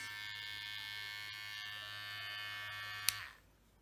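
Powertec TR1058 electric shaver running with a steady, fairly quiet high-pitched buzz and hum for about three seconds, then a brief click as it switches off and the motor winds down.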